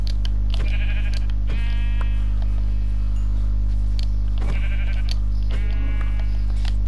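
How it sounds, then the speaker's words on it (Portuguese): Sheep bleat repeatedly in a video game, several wavering calls spaced a second or two apart over a loud, constant low hum. "Ovelhas."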